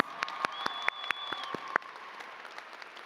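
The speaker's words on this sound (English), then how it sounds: "Let's give Demetra a round of applause" Scattered applause for a graduate at the CCNY 2024 graduate convocation: a few sharp, separate claps close by that thin out and fade to a quieter hall within about two seconds.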